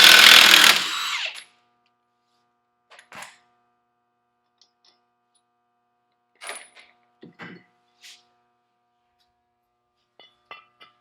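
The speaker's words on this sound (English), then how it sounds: "We got a 1/2 inch impact." Half-inch impact wrench removing 18 mm bolts on a vehicle's trailing arm and radius rod mounts: a long loud burst at the start, then several short, separate rattling bursts spaced apart by quiet gaps.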